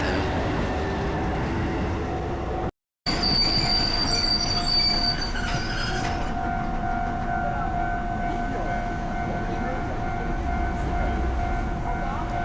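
A retro electric train rolls past in Takamatsu, its wheels squealing with long sustained metallic tones over a steady rumble, close and loud throughout.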